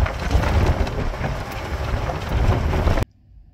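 Strong broadband wind rumble buffets the microphone outdoors on a bouncy Club Car golf cart during a ride, steady and loud for about three seconds before cutting off abruptly to quiet.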